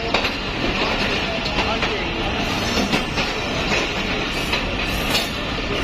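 Karakoram Express passenger train arriving at Faisalabad station, a steady loud rolling rumble with rhythmic wheel clatter and faint squeals, crowd voices murmuring underneath on the platform.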